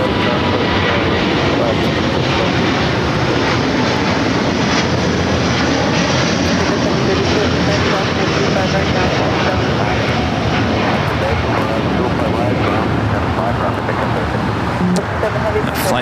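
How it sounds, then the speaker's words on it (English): An Airbus A330neo bound for Tokyo Haneda takes off at LAX, its jet engines producing a loud, sustained roar that fills the whole stretch and stays strong from start to finish. "we finally got Flight 7, the A330neo heading to Tokyo Haneda"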